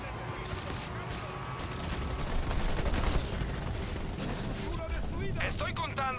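Dense, rumbling bursts of gunfire and explosions crackle continuously through a noisy battle scene in the video game Halo Wars 2, with voices faintly mixed in.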